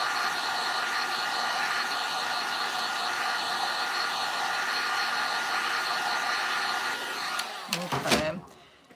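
A hair dryer blows on wet paint on a hand-painted sign, a steady loud whirring hiss that holds for about seven seconds before clunking off and winding down.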